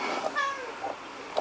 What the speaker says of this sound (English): He is a Blue Point Siamese and very vocal, aren't you?